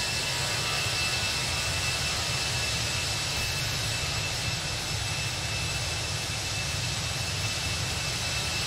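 Steady jet engine drone of an Aeroflot Airbus A319 in X-Plane 11, a constant even roar with a faint high whine, heard from outside the aircraft at cruise with no talking.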